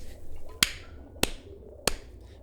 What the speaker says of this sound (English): Oh, I forgot to do the clap thing